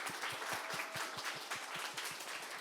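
Audience clapping at a youth culture festival stage event after a rapper's performance, a steady mid-level wash of many hands with a regular pulsing beat, continuous for the whole stretch with no talk over it.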